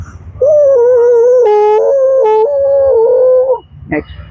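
A person imitates a long, wavering dog howl, sustained and loud up close, rising and breaking slightly before trailing off.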